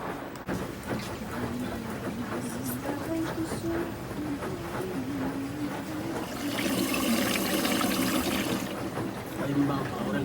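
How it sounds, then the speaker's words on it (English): A large laundromat washing machine filling with cold water, a steady rushing trickle and splash that grows louder midway, under a voice talking nearby. "This is used water and they're just giving me this cold water."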